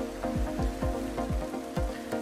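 Rain in the truck-driving game Euro Truck Simulator: a steady patter of drops on the cab, accompanied by a rhythmic repeating thump about every third of a second, like windshield wipers, with no talking.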